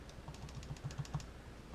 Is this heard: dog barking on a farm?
no